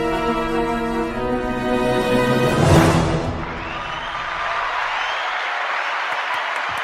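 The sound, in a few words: quiet applause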